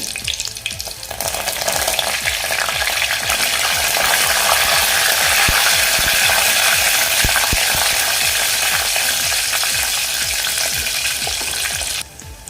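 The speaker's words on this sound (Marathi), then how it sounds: "लसूण घालून घेते आता यामध्ये कढीपत्ता घालते" Garlic and curry leaves fry in hot oil for katachi aamti, a loud, steady sizzle with stirring clinks that runs close and unbroken, then cuts off near the end.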